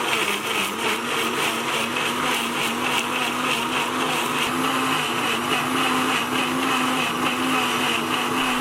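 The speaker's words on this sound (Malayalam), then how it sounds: "ഇനി നമുക്കിത് നന്നായിട്ട് ഗ്രൈൻഡ് ചെയ്തെടുക്കാം" A blender grinds chunks of watermelon with about three-quarters of a cup of sugar for lemonade, a steady loud motor whir with a churning, slightly pulsing texture that runs unbroken throughout, with no talking.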